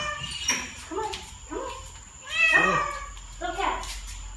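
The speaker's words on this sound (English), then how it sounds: "First two meows we've heard." A cat meows several times in short, plaintive cries, close by, with one louder drawn-out meow in the middle.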